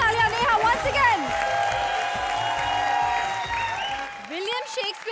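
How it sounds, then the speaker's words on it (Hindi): A studio audience at a Hindi comedy television show applauds and cheers, a steady dense patter of clapping lasting several seconds, mixed with background music and voices. "जोरदार तालियां"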